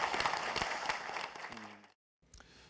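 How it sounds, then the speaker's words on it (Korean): Studio audience applause on a Korean TV news program, a burst of clapping lasting under two seconds that fades out, with a short pause of silence and then voices resuming. "박수 한번 쳐주실까요?"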